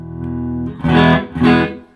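Electric guitar from a Fender American Pro II Stratocaster played through a Fender Deluxe Reverb amp: a sustained chord rings, then two strong strummed chords follow, bright and slightly driven with a reverb tail.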